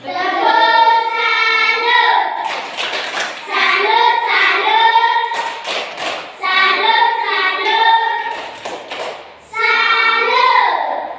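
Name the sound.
class clapping a "tepuk salut" clap routine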